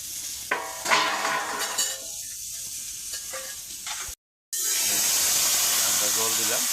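Water is poured into a hot pan of potol paneer (pointed gourd with paneer) and bursts into a loud, steady sizzling hiss up close, with stirring and someone talking over it.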